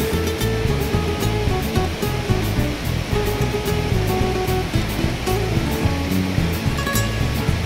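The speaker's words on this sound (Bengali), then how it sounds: "আমরা বানজাগড়ি ওয়াটারফলসের খুব কাছে চলে এসেছি।" Banjhakri waterfall near Gangtok pours with a loud, constant rushing roar of falling water, dense and unbroken, heard close by with no talk over it.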